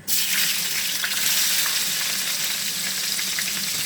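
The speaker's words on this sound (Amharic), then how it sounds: "መጀመሪያ ሽንኩርት እንጨምራለን። ቅድሚያ ቀይ ሽንኩርት ነው።" Red onion hits hot oil and fries, a loud, close, continuous sizzle that bursts in abruptly and holds steady with faint stirring crackles, no voices.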